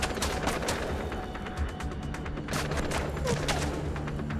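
Dense gunfire from the Far Cry video game, overlapping bursts and scattered shots running continuously at fairly loud level through the whole stretch with no speech.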